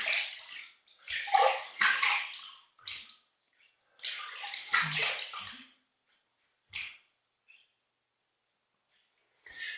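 Water is splashed up to rinse shaving cream off a face, in several close bursts of splashing separated by quiet pauses, with a couple of brief drips toward the end.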